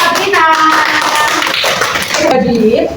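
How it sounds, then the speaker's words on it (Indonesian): A primary school class claps for a pupil during a plant lesson, a burst of close hand clapping mixed with children's and a teacher's voices. "Tepuk tangan untuk Sabrina."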